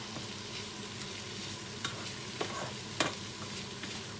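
Pumpkin and egg stir-fry in a pan with a steady, continuous sizzle, broken by a few light scrapes and knocks of a spatula against the metal.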